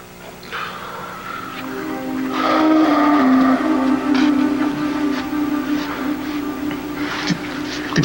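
A train bound for Statesville sounds a long whistle over rumbling rail cars, the tone rising and holding loud through the middle, with a few clanks and no voices.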